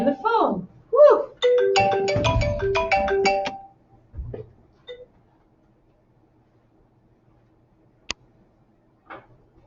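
A phone rings in a short warbling electronic tune. Several bright, rhythmic tone bursts come loud and close, then fade to quiet with a couple of faint ticks and one sharp click.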